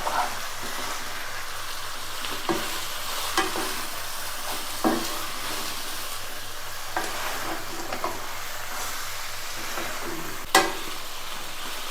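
Chicken stirred with masala spices in a hot pan for Thalassery dum biryani, a steady sizzle under occasional scraping knocks of a spoon against the pan, close and continuous.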